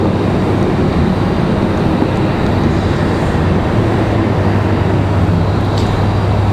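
A UPS Boeing 757-200 cargo jet taxis slowly at an airport, giving a loud, steady low engine rumble and roar that holds constant throughout, with no talking.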